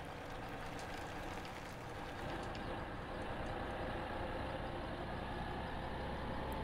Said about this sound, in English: this Mack truck sounds pretty good